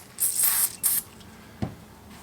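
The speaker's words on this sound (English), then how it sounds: "put a little cleaner spray on it" Cleaner sprayed from a pump bottle onto a shop towel: two quick hissing spritzes close by, followed by a faint soft knock.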